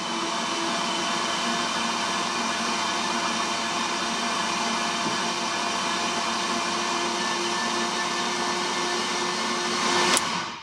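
A BMW M3 V10 fitted with 10-into-1 headers starting for the first time, heard as a steady, loud, droning mechanical roar with even tonal layers that holds unbroken for about ten seconds and swells briefly near the end.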